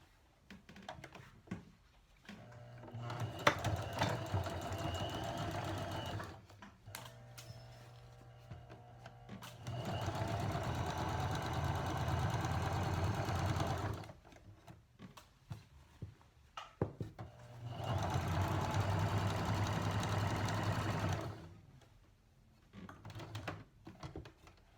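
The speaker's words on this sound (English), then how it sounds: "So now I'll sew this together at a 1/2 inch" A sewing machine stitches a waistband seam at half an inch, running in three sustained whirring bursts of several seconds each, with quieter handling and pauses between, close and steady, with no talking.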